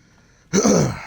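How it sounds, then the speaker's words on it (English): A streamer gives one short, rough throat clear close to the microphone after a near-silent pause. "So sorry if I have to keep clearing my throat."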